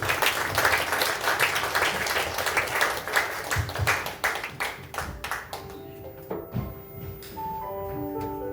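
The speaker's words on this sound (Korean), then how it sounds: "큰 박수로 맞아주세요" An audience at a live literary reading performance with actors and live music claps steadily, loud and close, then the applause thins into scattered claps and fades out.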